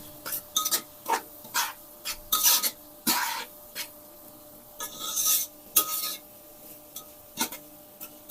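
Spatula scraping and stirring fried rice with egg in a pan, a series of short rasping strokes in uneven rhythm, close and moderately loud with no voice.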